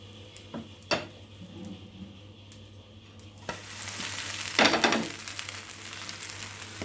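A set dosa sizzles in oil on a pan after being flipped, the crackle swelling louder midway, with a few sharp clinks of a spatula or utensil against the pan and no talking.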